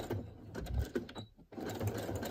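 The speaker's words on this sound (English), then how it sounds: "sometimes what I do is I go over a seam like this that's already stitched" A sewing machine stitches over an existing seam on an altered playing card in a boho craft project, giving a steady close whirring hum with a brief dip before it resumes.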